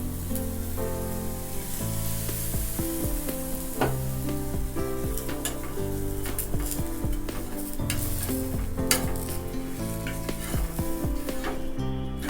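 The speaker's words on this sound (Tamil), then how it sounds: "லைட்டாக கொஞ்சம் எண்ணெய் ஊற்றிக்கலாம்." A ragi chapati frying in a pan with a little oil, giving a steady close sizzle with frequent crackles and pops throughout.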